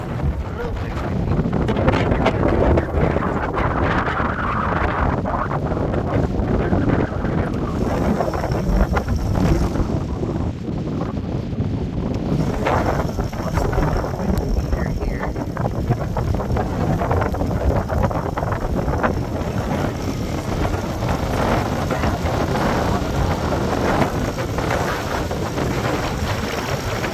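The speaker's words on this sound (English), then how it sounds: "It's a little windy, 15 to 20 mile an hour, but nothing we can't handle." Strong wind, 15 to 20 mph, buffeting the microphone on a boat at anchor, a loud steady rushing roar with gusty swells throughout, no talking.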